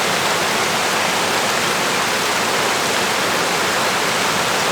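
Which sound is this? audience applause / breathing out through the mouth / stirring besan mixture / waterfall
waterfall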